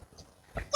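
A young goat kid bleats twice at close range, a brief rough cry followed by a louder, higher and more tonal bleat, with no voices around it.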